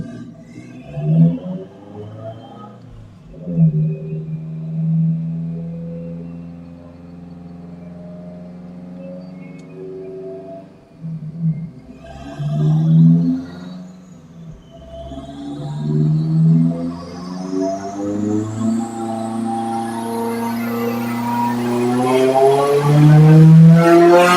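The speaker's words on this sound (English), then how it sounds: "I heard the boost control going crazy" A 2014 Subaru STi turbo engine on a Link G4x flex fuel tune surges erratically as the boost control hunts, with strong tones wavering up and down, then climbing and swelling louder toward the end.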